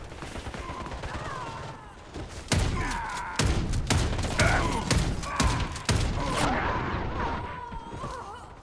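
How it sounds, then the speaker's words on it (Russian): Gunfire and a thrown grenade's explosion ring out in the Warface shooter game, with loud repeated blasts and bursts of shots pounding through a dense, noisy battle mix. "Кидаю гранату!"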